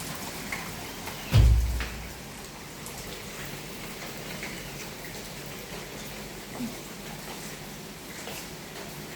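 Heavy rain falling outdoors, a steady even patter and hiss throughout, with one brief low thump near the start, no speech.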